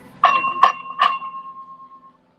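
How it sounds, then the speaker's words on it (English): A bell on a LEGO cable car display at Legoland California, set off by a push button, strikes three clear dings about 0.4 seconds apart, then a ringing tone fades out over about a second. "Alright, I guess we just get the bell."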